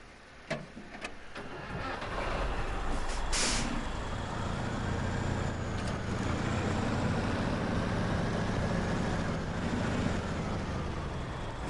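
Snowrunner truck engine idles and then revs up to a steady, loud drone, with a short sharp air-brake hiss early on and a few brief clicks before the engine settles into a continuous rumble.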